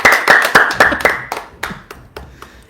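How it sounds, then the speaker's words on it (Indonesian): A small group claps in loose, uneven bursts, about a dozen sharp hand claps that thin out and slow toward the end, close and fairly loud. "Tepuk tangan dong."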